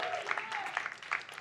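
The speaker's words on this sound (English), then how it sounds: "Clap if you're born after." A comedy club audience in New York claps and cheers during a stand-up set, a short, fairly quiet burst of crowd clapping with a few voices mixed in.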